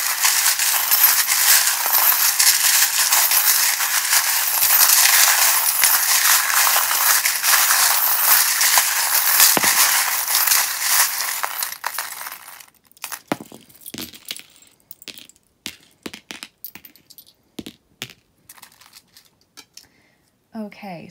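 Bright metallic jingling and clinking of small metal charms while tarot cards are shuffled, loud and continuous for about twelve seconds, then scattered light taps and chimes as it quiets.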